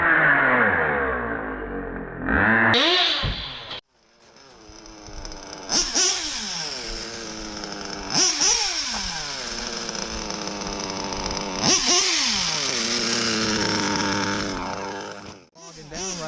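A nitro RC car engine screams at high revs, then cuts out and restarts, with repeated rising and falling surges as it bogs down. It is loud and close throughout.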